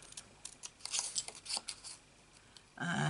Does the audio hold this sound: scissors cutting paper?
yes